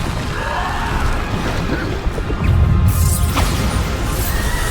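Bombarda blasting spells explode again and again in Hogwarts Legacy, a dense barrage of booming, crashing bursts over continuous low rumble, growing louder and heavier past the midpoint.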